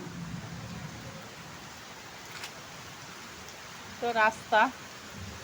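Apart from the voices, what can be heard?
heavy rain falling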